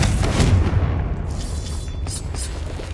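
A Confringo spell blast in Hogwarts Legacy lands as a deep, rumbling boom that fades into low crackling debris, with a second, lighter burst near the end.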